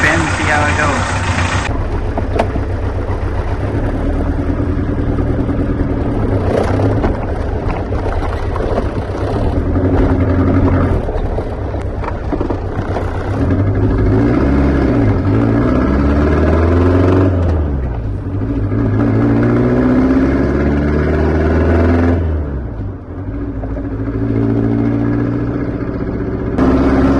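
A Volkswagen Rabbit's engine runs steadily throughout a test drive, rising and falling in pitch with gear changes. It stays loud and close, and a voice talks intermittently over it.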